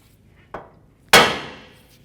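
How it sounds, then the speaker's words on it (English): Two hammer blows strike the side of a steel steering knuckle on a 2007-2014 Cadillac Escalade to free the ball joint. A lighter tap comes first, then a loud ringing metallic hit that decays slowly, with no talking. "I'm going to use a hammer and strike the side of the knuckle to release this ball joint"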